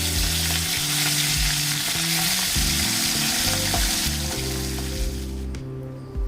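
Small puti fish fry in a pan of hot oil for a Bengali-style fish curry, with a loud, continuous sizzle and crackle and a few stirring clinks.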